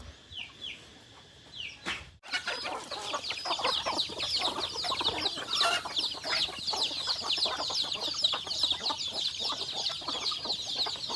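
Chickens cluck steadily throughout, a dense flock of hens and a rooster calling close by over a continuous farmyard background, with a brief sharp knock early on and no talk.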